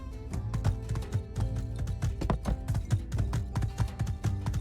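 Steady clip-clopping of horse hooves in the game My Time at Sandrock, a brisk, even rhythm of hoof taps close by, with no talking.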